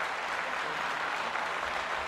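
Steady crowd applause welcoming a guest onto the stage at a women's recognition event, dense and even clapping throughout without a break.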